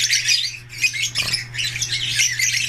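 Caged birds in a flight cage give loud, harsh squawks and chirps in quick overlapping bursts, close by, over a low steady hum, with a brief dip in the calling midway.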